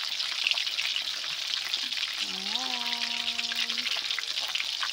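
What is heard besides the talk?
tilapia frying crisp in a pan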